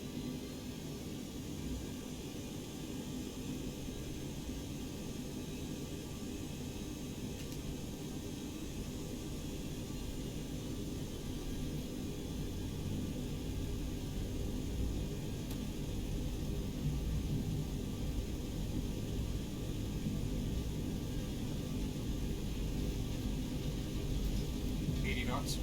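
Simulated FlyJSims 727-200adv jet engines at takeoff power in X-Plane 11 make a steady, dense broadband roar that holds continuously and swells slightly toward the end.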